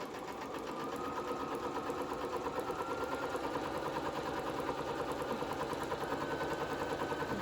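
A sewing machine runs a 1/4 inch seam down the long side of fabric for a small wallet or fabric case, a steady, dense, rapid stitching whir that carries on without a break, close and fairly loud.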